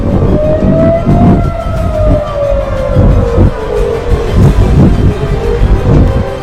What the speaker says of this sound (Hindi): इसराइल में अभी सायरन्स बज रही हैं,